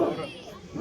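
A large Turkish Anatolian shepherd dog barks in deep, loud bursts close by, with people talking around it outdoors.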